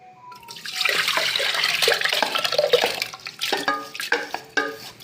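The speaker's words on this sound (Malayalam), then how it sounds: "അതിലേക്ക് നമുക്ക് പരിപ്പും വെള്ളം കൂടി നമുക്ക് ഒഴിക്കാം" Water and split green gram lentils are poured into a pressure cooker on the stove, a close, gurgling splash lasting several seconds that breaks into a few irregular sloshes at the end.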